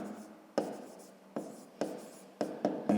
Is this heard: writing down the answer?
yes